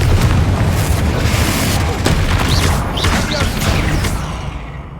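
A Confringo explosive spell is cast in the video game Hogwarts Legacy, giving a dense, booming blast that rolls into a steady rumble of crackling debris lasting several seconds.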